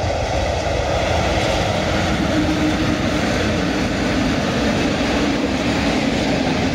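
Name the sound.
train passing, thought to be an ET41 locomotive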